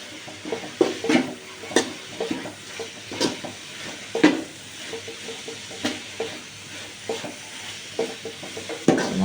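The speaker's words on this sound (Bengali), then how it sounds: "আর এটা একটু ভালো করে নেড়ে চেড়ে নেব।" Cinnamon, cardamom, bay leaves and vegetables for a vegetable khichuri are stirred in a hot pan, with rhythmic scraping strokes over a steady, gentle sizzle.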